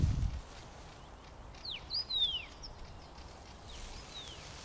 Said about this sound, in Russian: Что за птичка, да?